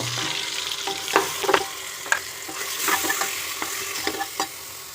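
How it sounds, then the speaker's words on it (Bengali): Cumin seeds and ground spice paste frying in a pan for a coconut chicken curry, a steady close sizzle broken by scattered scraping stir strokes, with no talking. "মশলাটা যখন এই পর্যায়ে একটু কষিয়ে নিয়েছি"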